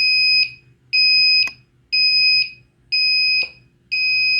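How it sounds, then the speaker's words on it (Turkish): A shrill electronic buzzer driven by an ELO stop time relay beeps in a steady on-off pattern, about five loud half-second tones evenly spaced, with faint clicks between. "Gördüğünüz gibi bizim buzzer çalışmaya"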